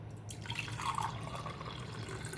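A thin trickle of carrot and celery juice drips through a strainer and splashes softly, steady and faint, with a light gurgle partway through.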